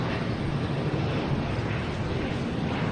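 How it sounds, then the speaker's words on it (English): A JetBlue airliner arriving from Milwaukee lands at Boston Logan Airport, a loud, steady broadband jet roar that fills the whole moment without break. "Another JetBlue coming in from Milwaukee."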